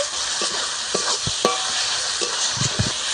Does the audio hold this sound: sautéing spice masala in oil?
yes